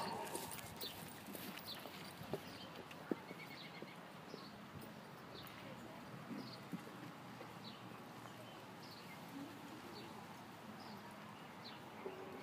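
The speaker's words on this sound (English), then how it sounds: "Walk your horses, please." Horses walk around a show arena during a junior pleasure class, with soft, distant hoof clip-clops over steady room ambience, a few faint thuds and occasional far-off calls.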